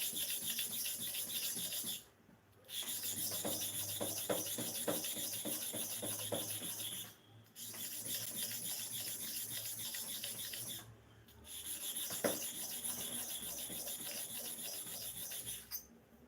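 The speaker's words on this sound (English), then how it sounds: "sharpening of the clipper blade" A Starex clipper blade is rubbed against a stone for sharpening, giving scratchy rasping strokes in four bursts separated by brief pauses, close and fairly quiet.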